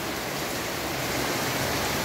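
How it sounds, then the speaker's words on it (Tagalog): A dense, steady hiss of heavy rain pouring down outside at night, constant and even throughout with no voices. "grabe po yung ulan dyan sa labas"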